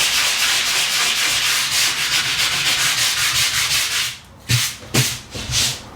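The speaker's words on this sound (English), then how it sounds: "this definitely does need sanding rather than just a wet sponge" Hand sanding of filler on a plasterboard ceiling gives a steady, close abrasive rasp with rhythmic back-and-forth strokes, then a few shorter separate strokes after a brief pause.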